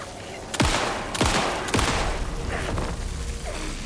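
Handgun fire in the horror game Alan Wake II, three sharp, loud shots spaced about half a second apart, each trailing off in a ringing echo and leaving a noisy tail.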